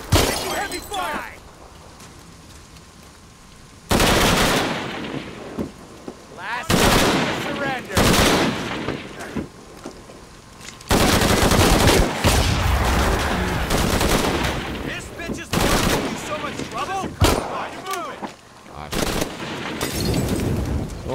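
Bursts of heavy automatic gunfire and explosions from the video game Shadow of the Tomb Raider come in loud, irregular volleys with breaks between them, while players talk over the combat.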